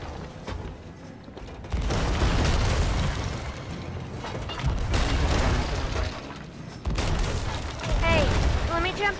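Heavy ship cannon blasts roll out in Sea of Thieves during a fight with a skeleton ship, coming as a run of deep booms with water and battle noise beneath and players talking over them.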